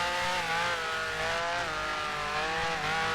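A Formula One race car engine in a racing game drones loudly and steadily at high revs, its pitch wavering slightly as it holds speed.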